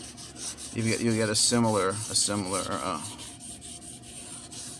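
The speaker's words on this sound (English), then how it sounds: "It's just the same type of feeling of just rubbing the flats on the stone." Steel blade flats rubbed on a sharpening stone, a soft gritty scraping heard close under a voice, with short rasping strokes between his words.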